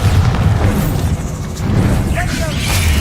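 Bombarda blast spell in the Hogwarts Legacy game: a heavy booming explosion rumbles steadily, dips briefly midway, then swells again with scattered whooshing effects on top.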